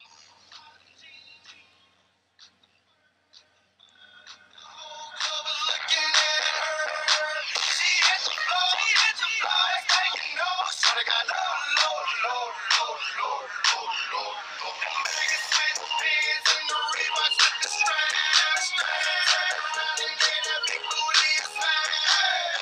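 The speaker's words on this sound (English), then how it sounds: "We'll go to the video ringtone" A video ringtone plays on a jailbroken iPhone from 2010. Quiet faint ticks come first, then a loud, bright, busy ringtone melody starts about five seconds in and continues without a break to the end.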